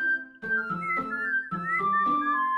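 Someone whistles a short tune in a few sustained, slightly wavering notes, clear and fairly quiet, with brief pauses between phrases.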